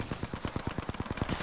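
Automatic weapon fire in the video game Apex Legends, a rapid stream of about a dozen sharp, evenly spaced shots that hit close and loud, with nothing else under them.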